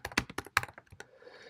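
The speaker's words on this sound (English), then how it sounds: "let's type in Visual Studio" Quick burst of computer keyboard typing, about a dozen close, crisp key taps in a short run before trailing off into quiet.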